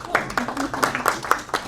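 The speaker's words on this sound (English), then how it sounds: "let's give her a round of applause" Small group in a prayer class clapping, a sparse, uneven round of individual hand claps with distinct separate beats, fairly close.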